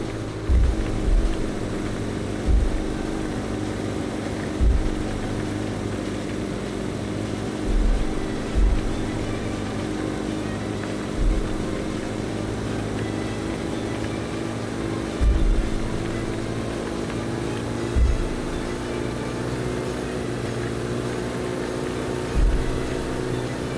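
A steady droning van engine hums at constant pitch in the Roblox game A Dusty Trip, with faint periodic thumps recurring every few seconds as the vehicle keeps driving at top speed.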